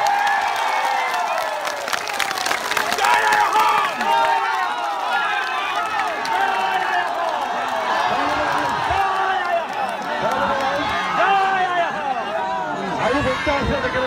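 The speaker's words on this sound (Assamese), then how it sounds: "নিজে এটা ডাঙৰ হাত চাপৰি মাৰিবৰ কাৰণে" A large outdoor protest crowd at Latasil in Guwahati, rallying against CAB, claps and cheers loudly and continuously, with shouting voices mixed through the roar.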